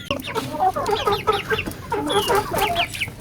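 Aseel chickens cluck and squawk busily as they are taken out of a cage, with overlapping short calls from several birds continuing steadily and close by.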